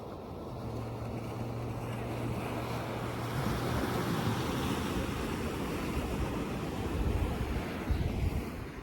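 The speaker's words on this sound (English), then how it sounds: "I could sit here for hours listening to that ocean crash." Ocean waves roll onto a beach near Newport, a broad, continuous wash of surf with a swell building toward the end, heard alone with some wind noise on the microphone.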